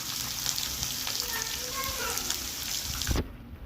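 Crushed ginger, garlic and curry leaves frying in hot oil for masala dosa filling, a dense close crackling sizzle that drops away abruptly at the end.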